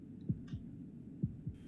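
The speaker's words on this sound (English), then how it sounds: "That was the sound of a heartbeat," Slow heartbeat thumps from the video game Slay the Princess, four soft low pulses in uneven pairs, faint and muffled, alone without talk.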